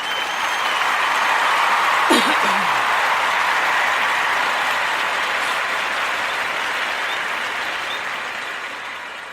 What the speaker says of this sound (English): Let's give everybody a round of applause for all the support.